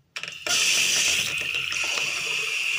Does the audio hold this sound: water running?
yes